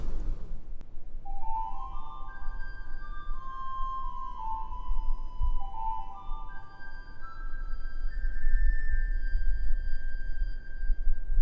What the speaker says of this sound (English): we have a 4-foot flute a fuseau that goes on top of the 8-foot